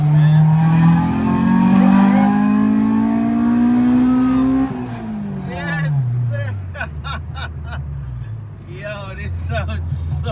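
A Honda B16 car engine revs hard, its pitch climbing steadily before dropping away, then people talk and call out over the lower engine sound.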